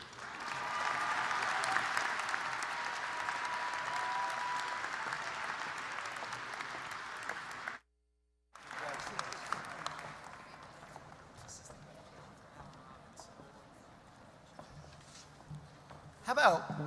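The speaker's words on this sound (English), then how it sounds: "How about one more round of applause for every graduate today?" Sustained applause from a large crowd at a university commencement ceremony fills the space, broken by a brief silent gap, then resumes more softly with scattered claps.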